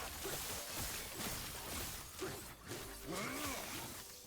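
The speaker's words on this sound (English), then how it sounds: "They've done such a good job to hear that glass breaking." Shatter Strike skill from the Last Epoch video game, a glass-shattering impact sound with bright crashes and whooshes, repeating several times over a dense, loud bed of game effects.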